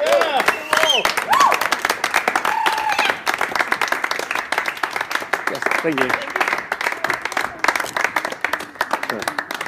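Audience applause at a magic card trick show, steady clapping running throughout with voices talking over it and a brief exchange of thanks.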